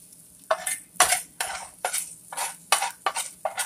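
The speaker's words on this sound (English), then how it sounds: "use a handful of diced onions, you know, brown them off on nice little caramelization on the onions" Diced onions browning in a pan, stirred in a regular rhythm of about eight scraping sweeps, each a bright rasp over a faint background sizzle, close and clear.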